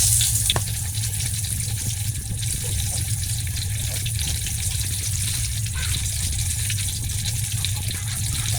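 Loud, continuous sizzling of chicken frying in a hot wok, a steady crackling hiss throughout.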